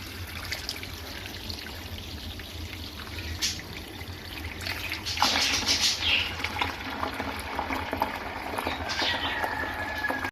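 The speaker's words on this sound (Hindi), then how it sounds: "सबसे पहले यहाँ से पानी खोलते हैं और यहाँ से जी पानी भर लेते हैं।" A tap is turned on and water runs and trickles steadily as a container fills, a constant close gush with brief splashy surges and no talk.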